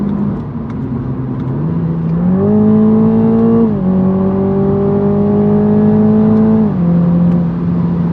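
A Toyota GR Supra 2.0 with a 2-litre engine revs in a steady, loud, close drone whose pitch climbs, holds high for several seconds, then eases back down.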